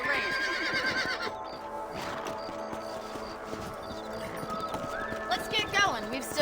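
Horse hooves clip-clop at a steady trot in Red Dead Redemption, with a horse whinnying and game music under a man's spoken lines.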